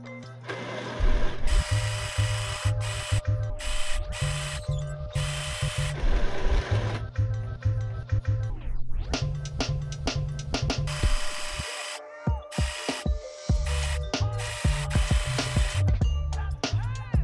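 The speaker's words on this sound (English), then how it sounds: "So the next step is I'm going to sew the darts." A domestic sewing machine stitches darts on a ruffled dress, running in loud close bursts of rapid mechanical whirring that stop and restart several times over a steady hum.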